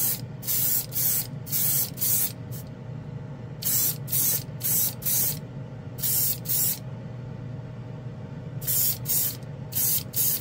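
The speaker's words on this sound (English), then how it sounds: "into the cup with my Grex, very comfortable airbrush" A Grex airbrush sprays hobby paint poured straight from the jar, loud close hissing bursts in quick pairs and clusters with short quiet gaps between them over a low background hum.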